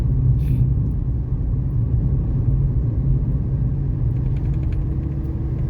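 A car driving along Thai road 226 gives a steady, loud low rumble of engine and road noise heard from inside the cabin, with a faint high whir and no talking.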